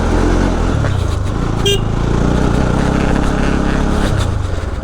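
A motorcycle runs on a rough village route near Khalse, its engine droning loud and constant with shifts in pitch as it labours along, a brief sharp tone cutting in partway through.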